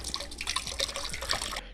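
About a gallon of water runs into a container for a car wash, a short, steady close-up splashing pour with faint dripping.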